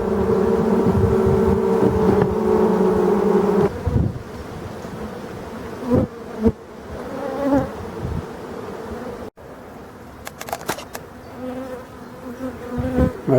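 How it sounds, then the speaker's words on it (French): Forest honeybees swarm around a small hive, their dense buzzing loud and steady at first, then thinning into scattered passes of individual bees flying close to the microphone. "on voit déjà des abeilles qui sonnent le rappel"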